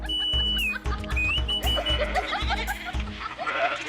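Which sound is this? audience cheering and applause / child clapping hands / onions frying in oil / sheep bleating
sheep bleating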